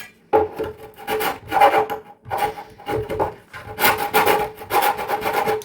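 Wood is cut with a hand saw for a DIY kitchen console, giving close, loud rasping strokes in uneven bursts with brief pauses between groups of strokes, and no talking.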